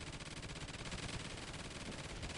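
Rapid automatic gunfire from a video game rattles without pause in a dense, loud, continuous stream, heard alone.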